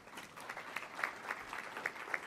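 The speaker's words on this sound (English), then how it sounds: "I hope you're able to hear the applause on the call." Applause from a modest audience after a conference presentation at the AIDS 2022 satellite session, fairly faint with a few distinct nearer claps standing out in an uneven patter.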